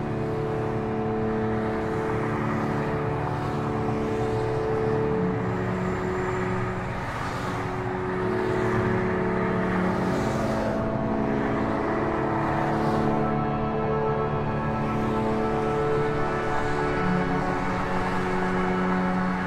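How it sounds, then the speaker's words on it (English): Cars driving on a Detroit freeway make a steady, continuous droning roar of traffic with some louder passing swells, heard from a distance with no voices. "The constant dirge in the background of the cars swimming on the freeway"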